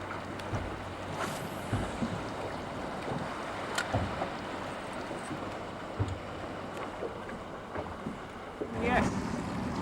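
Steady wind rushes and buffets the microphone aboard a bass-fishing boat drifting quickly across open water, a constant broadband roar with a few louder gusts and faint knocks and no voices.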